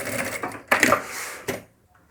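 A sewing machine stitches along the bottom edge of a fabric lining for a zippered pouch in short, close bursts of motor whir, ending with a brief final run and then quiet.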